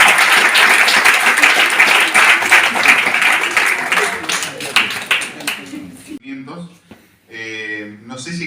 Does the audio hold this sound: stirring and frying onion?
no